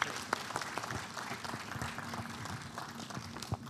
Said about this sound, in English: another big round of applause for the Honorable Minister of Finance